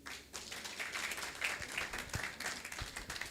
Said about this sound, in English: Another round of applause for our Deputy Managing Director, Mrs. Chizoma Okoli.